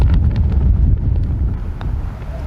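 Strong gusting wind buffets the microphone on an open golf course, a loud, low rumbling roar that stays steady throughout with no voices.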